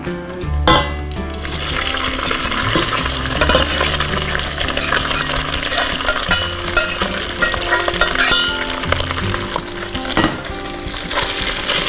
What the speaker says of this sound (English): I'm going to now add our rice to this ghee mixture.